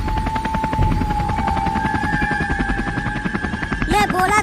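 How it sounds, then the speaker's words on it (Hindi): Steady rhythmic chopping of helicopter rotors, loud and close, with a high whine running through it and a brief sharp burst near the end. "मुझे हेलीकॉप्टर को उड़ाना आता है।"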